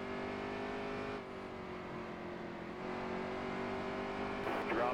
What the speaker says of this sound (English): Let me do some burnouts